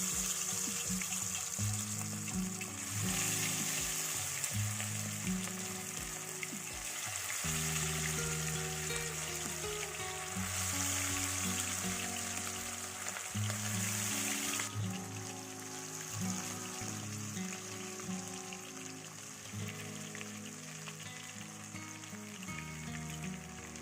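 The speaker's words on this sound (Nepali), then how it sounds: "यसमा अब म मासुलाई फ्राईको लागि राख्दै जानेछु।" Chicken pieces frying in oil heated over a medium flame, a steady dense sizzle that continues throughout, with soft scraping or stirring and a faint background hum and no talk.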